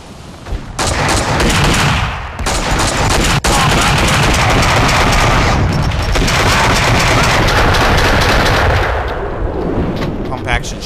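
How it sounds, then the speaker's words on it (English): Pump-action shotgun fire in the Max Payne 2 action game, loud blasts ringing out in a dense, continuous barrage of overlapping shots with a brief pause near the start and a sharp crack in between. "Pump action shotgun."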